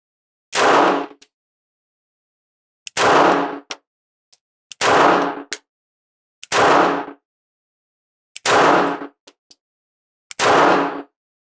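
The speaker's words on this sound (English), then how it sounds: "I'm going to do the rest of the magazine at the cranium target zone." Six loud, sharp shots from a Ruger LCP Custom Bodyguard 2.0 pistol fired at a target outdoors on a chilly day, spaced about two seconds apart with near silence between them.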